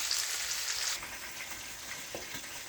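Chicken pieces for brown stew chicken sizzling in a hot pot: a dense, crackling fry hiss loud at first, then settling to a steadier, softer sizzle with occasional pops and a light clink.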